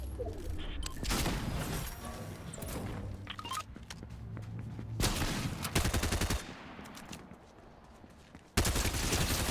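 Gunfire in Fortnite: bursts of rapid shots and sustained rattling fire, loud and close, broken by short pauses and ending with a sudden sharp burst.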